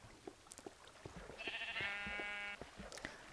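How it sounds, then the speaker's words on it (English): A Minecraft sheep gives one clear, wavering bleat over a quiet background of soft clicks and taps. "Here we have a sheep. He's trying to fight the water right there."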